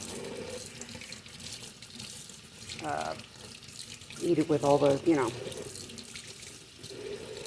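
Tap water runs into a sink while young cattails are rinsed, a steady near splash and gush under a person's talking voice.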